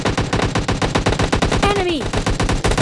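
Rapid automatic gunfire in the mobile battle-royale game PUBG Lite, a loud, close, evenly spaced stream of shots that runs throughout, with a brief tonal sweep cutting in near the end.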